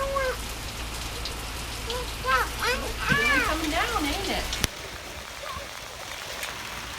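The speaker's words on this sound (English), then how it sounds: "And here comes the rain. Wonderful. Yep, it's raining." Rain falls steadily outdoors as a broad hiss, with a voice speaking over it in the first part before a sudden drop leaves the rain alone.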